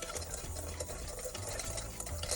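Blueberry buckle crumble topping being mixed in a bowl, with soft, close scraping and stirring sounds in a quick irregular rhythm.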